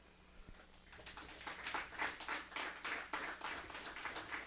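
Audience applause at a ceremony in San Miguel, following an invocation, builds into a steady wash of many hands clapping for several seconds, moderately distant with no voices over it.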